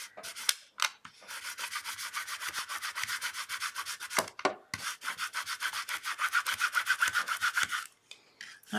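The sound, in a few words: Cricut scraper scraping a cutting mat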